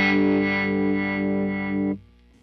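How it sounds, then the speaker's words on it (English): Electric guitar chord played through an Electro-Harmonix Wiggler tube vibrato/tremolo pedal on its rotating speaker setting, a sustained distorted chord with a swirling, pulsing warble that cuts off after about two seconds. "Gives you the rotating speaker sound."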